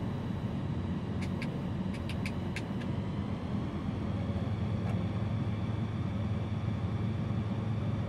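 A light aircraft engine in Microsoft Flight Simulator 2020, throttled back for a slow approach over Rocky Top, Tennessee, drones steadily and evenly throughout, with a few faint clicks early on.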